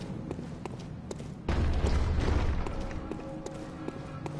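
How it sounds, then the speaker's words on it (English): Faint, evenly spaced dull thuds from a door being banged on in the game Bloodborne, repeating in a steady rhythm over a low rumbling game ambience. "So this door is getting banged on."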